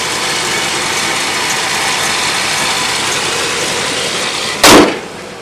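A loud, steady engine rumble from an idling 1979 Dodge D150 Power Wagon 4x4 pickup, set to idle low, with a constant mechanical clatter, running evenly and close, ending in a brief sharp knock.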